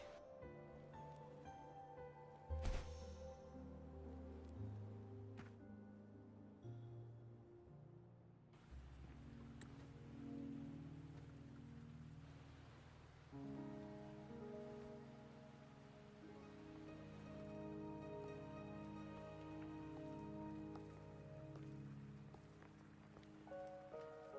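Steady rain patters in the video game Wuthering Waves, a soft, continuous wash of drops under sustained musical tones, with one sharp louder hit early on.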